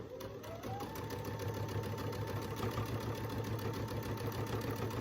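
A sewing machine runs steadily as it stitches down a folded corner flap on an heirloom quilt top, a continuous mid-pitched motor hum with fast needle rhythm, close and unbroken, with no voices.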